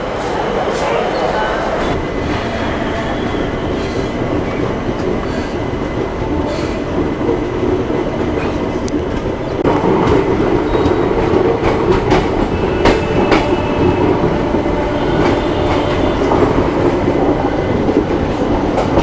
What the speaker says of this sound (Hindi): दिल्ली सराय रोहिल्ला बीकानेर इंटरसिटी एक्सप्रेस की अच्छी खासी लंबी ट्रेन है।